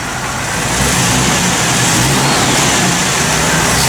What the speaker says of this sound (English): Here's a little rev, Ed.